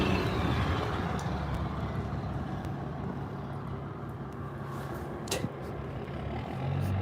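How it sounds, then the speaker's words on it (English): A loud truck engine rumbling and revving close by, with a brief hiss partway through and traffic noise around it. "This loud truck is revving his engine right as they walk up on the sidewalk."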